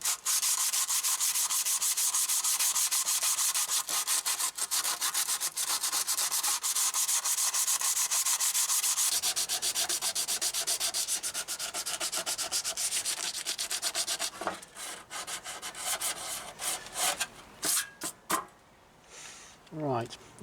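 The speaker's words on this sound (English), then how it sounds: "I'll sand out the middly bit and sand out the rest of it." Steady abrasive sanding on the metal chain guard of a Triumph Bonneville T140 motorcycle, loud and continuous with a rough scratchy texture, easing into shorter strokes and pauses toward the end.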